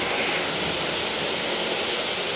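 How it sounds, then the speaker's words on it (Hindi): Machinery at a granite cutting company gives off a constant broadband roar, loud and unbroken, with no voices over it. "काफ़ी शोर आ रहा है इस कंपनी से, ग्रेनाइट कट रहा होगा।"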